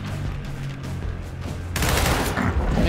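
Gunfire in the Gears Tactics video game starts abruptly as a loud, continuous rattling fusillade after a low rumbling background, dense and close, filling the final second.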